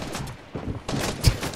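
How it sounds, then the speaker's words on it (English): Rapid gunfire in the Fortnite video game during a duos match crackles in dense, overlapping bursts, with a sharper, louder shot near the end. "There's so much gunfire!"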